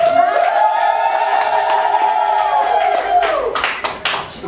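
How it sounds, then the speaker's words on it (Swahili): Wedding guests at a church marriage service ululating in a long, high, wavering trill over scattered clapping, loud and close, tapering off near the end into a few claps. "makofi mengi na vigelegele."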